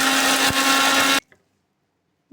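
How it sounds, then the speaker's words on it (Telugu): A kitchen mixer grinder whirs loudly, blending curry leaves and small chopped pieces into a paste for homemade hair oil, then cuts off abruptly after about a second, leaving near silence. "అలాగే ఇంత కరివేపాకు వేసేసుకొని ఇదంతా మిక్సీ పట్టేసుకుందాం"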